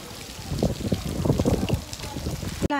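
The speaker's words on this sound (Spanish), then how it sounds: "La lluvia." Rain falling outdoors during a typhoon, a steady soft patter and splashing on surfaces, close and continuous, with a brief sharp sound at the very end.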